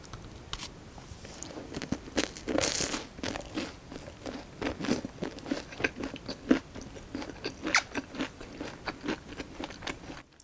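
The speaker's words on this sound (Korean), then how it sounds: "다른 것도 한번 올려 먹어볼게요. 브로콜리." Broccoli from gambas al ajillo, garlic shrimp in oil, is bitten and chewed up close, with soft, irregular crunching and mouth sounds repeating steadily throughout and no talking.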